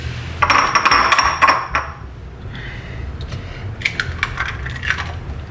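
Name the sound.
egg being cracked open on the side of a bowl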